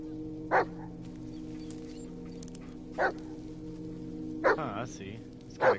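A dog barks four times in the video game Blair Witch, single sharp barks spaced a second or more apart over a low steady hum, fairly close.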